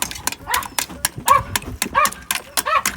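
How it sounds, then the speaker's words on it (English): A dog, Bronk, barks in a series of short, loud yelps and barks at an iced-over farm water trough during winter prep before a blizzard, repeated roughly every half second with some background noise. "You'd think Bronk was a killer dog, but he's really not"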